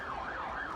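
Fire service siren wailing during a blaze at a market, its pitch sweeping up and down steadily and loud against a constant background rumble with no talk.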